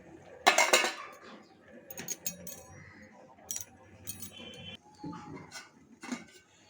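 Spoon clinking and scraping against a metal pot as two spoonfuls of sugar go into a simmering home remedy brew, with irregular close metallic taps and rattles.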